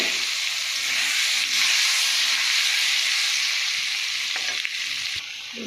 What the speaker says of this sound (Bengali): আমি এবারে মাংসের আলুগুলো একটু ভেজে নেবো।